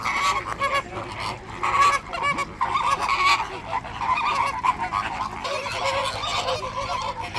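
Loud, raucous honking calls from a flock of pink flamingos close by, overlapping continuously with no pauses.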